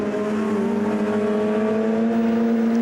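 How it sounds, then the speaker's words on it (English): Race cars on warm-up laps at a touring-car race in Japan, engines droning steadily and loudly with overlapping pitched tones, a continuous sustained roar without pauses or talk. "Cars on the warm-up laps"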